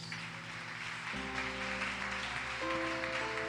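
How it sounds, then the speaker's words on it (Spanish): A church congregation applauds in a steady, dense wash of clapping that runs throughout, with sustained organ-like musical tones droning underneath. "¿Puede darle un aplauso al Señor?"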